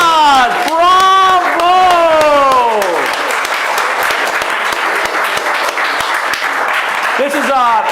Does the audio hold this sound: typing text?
no